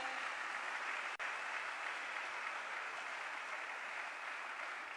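Audience applause at an award ceremony, steady far-off clapping at a fairly faint level throughout, with no voices over it.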